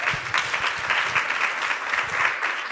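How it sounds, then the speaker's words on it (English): Audience applause after food startup pitches at a conference, a sustained, even roar of many hands clapping heard in the room, without talk. "Give them a big round of applause."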